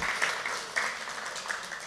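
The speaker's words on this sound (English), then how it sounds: "give the kids a hand on their way out. Give them a clap." A church congregation gives a light, patchy round of clapping as the children head out, fairly quiet and distant, with a few sharper individual claps standing out.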